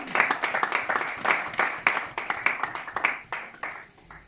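A church congregation applauds in a French-language service, with rhythmic, moderately loud clapping filling the room and gradually tapering off, no talking on top.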